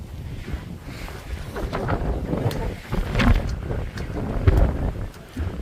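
Strong gusty wind on a hilltop buffets the microphone in uneven surges, rising and falling in loudness.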